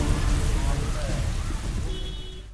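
Heavy rain falling in Rajasthan, a steady dense hiss of rain on surfaces that holds throughout and fades slightly toward the end.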